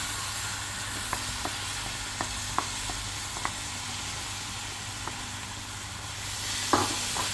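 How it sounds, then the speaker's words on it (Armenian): Bulgur frying in a pot as pilaf is cooked with tahal (ghavurma), giving a steady soft sizzle with a few small clicks and scrapes of stirring, a louder stir near the end. "Եվ ավելացնելու եմ զավարը ու մի քիչ տապակելու նման անել"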